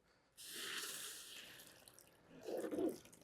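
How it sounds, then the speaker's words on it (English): A garden hose waters a freshly planted hanging basket, a soft, steady rush of water starting abruptly and continuing faintly, followed by a brief louder splashing gurgle near the end. "So let me get my hose and give them a good water."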